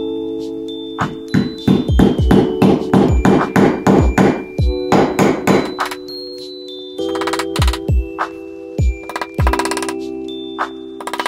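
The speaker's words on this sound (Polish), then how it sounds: "W każdy z wyznaczonych punktów delikatnie wbijamy gwóźdek." Nails hammered into wood, a series of sharp, ringing hammer blows in quick rhythmic runs with short pauses between, close and clear.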